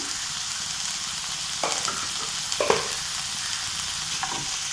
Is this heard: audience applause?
no